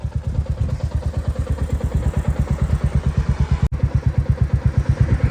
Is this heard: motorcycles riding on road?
yes